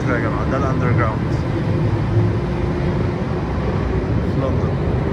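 A London Underground metro train fills the space with a loud, constant rumble and roar, a dense mechanical drone with no break throughout.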